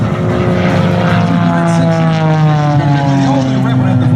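Extra 300 aerobatic propeller airplane flying at an airshow, its steady engine and propeller drone holding loud and continuous throughout with a strong sustained tone, while voices talk underneath.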